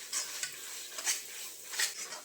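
A spoon stirs fried chicken biryani in a hot pan just after water and soy sauce go in, scraping in repeated strokes over a soft sizzle, close and clear with no talking.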